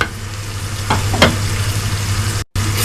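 Masala for a pumpkin curry fries in a pan with a loud, even sizzle over a low hum, punctuated by a couple of brief stirring scrapes and a momentary cutout.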